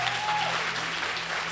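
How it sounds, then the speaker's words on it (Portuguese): A short burst of steady clapping from an audience at a women's political gathering, continuous and fairly close, with a faint tone briefly audible at the start. "Salva de palmas para vocês."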